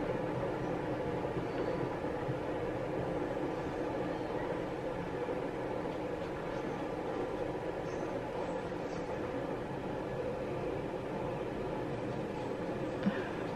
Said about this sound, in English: that train is never ending.